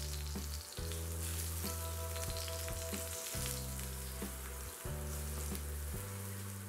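Eggplant slices fry in hot oil with a steady, close sizzle and crackle throughout, while a sustained low musical tone plays underneath; no one speaks.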